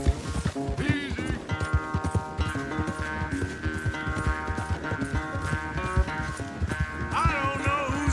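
Galloping hooves from a horse race in the video game Red Dead Redemption 2 beat in a quick, rolling clip-clop beneath a prominent musical score for the whole stretch.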